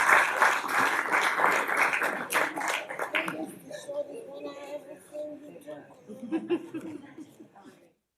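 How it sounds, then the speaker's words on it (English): Audience clapping for Employee of the Month and years-of-service award winners at a county commission meeting, dense and loud at first, then thinning into scattered claps and chuckles with voices talking through the tail. "another round of applause for our Employee of the Month and Year Service Award winners"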